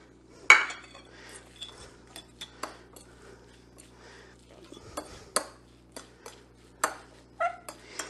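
Onions and seasoning worked into a tuna patty mixture in a bowl bring a string of sharp utensil clinks and taps against the dish, irregular and close, with no voices over them.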